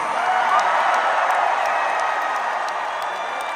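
A large concert crowd at a show in Indianapolis roars and cheers continuously, broad and steady with scattered whoops and claps, heard from within the audience.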